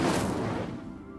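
Incendio fire spell cast in the video game Hogwarts Legacy, a loud roaring burst of flame that swells at once and then fades over about a second, no voices.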